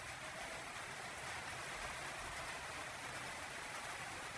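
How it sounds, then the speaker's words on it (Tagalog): Steady rain falling outdoors, a continuous even hiss of drops with no breaks and no voices. "Ayan ang ulan dito oh."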